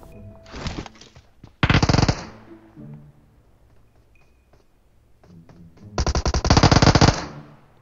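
Automatic gunfire in the mobile battle royale game PUBG Mobile, heard as loud bursts: a short volley, a second heavier burst, then a long sustained spray near the end, with game noises in the quieter gaps.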